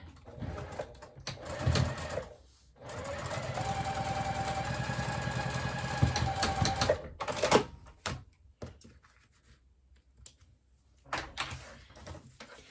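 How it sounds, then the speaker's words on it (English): A sewing machine top-stitching the top edge of a pocket on a zippered wristlet clutch: several bursts of rapid, even needle chatter, the longest running steadily for about four seconds, separated by pauses, handling noises and short stitches. "the top of the pocket, we're going to go ahead and top stitch that"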